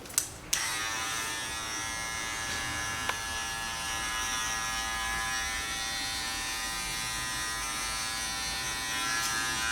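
Continuous electric hair clipper buzz with a 0.5 guard cutting hair during a social American-style haircut, a sharp click at the start and then a steady, fairly quiet hum with faint tonal whine throughout.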